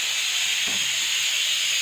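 Cooking vessel whistle releasing steam in a home kitchen: a loud, continuous high hiss that holds steady throughout, with a brief low thump partway through.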